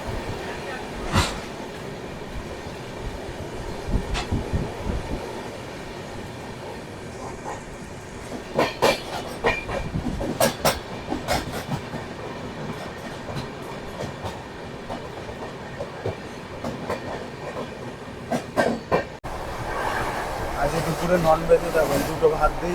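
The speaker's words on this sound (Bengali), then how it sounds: "আমরা পার করছি এখন ভদ্রক রেলওয়ে স্টেশন" Bengaluru-Howrah Duronto Express passing through Bhadrak station, heard from inside: steady rolling rumble with repeated clickety-clack bursts of wheels over rail joints, rising and falling in loudness, while people talk in the carriage.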